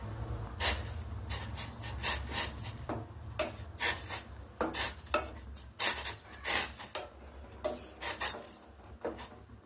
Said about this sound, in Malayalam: തിളച്ചു വരുമ്പോൾ നന്നായി ഇളക്കി കൊടുക്കുക.